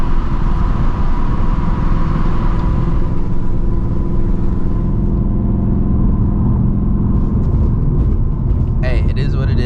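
Ford Mustang GT engine pulling hard through gear shifts, a loud, steady rumble with harmonic bands that step as each gear changes, continuous and close throughout.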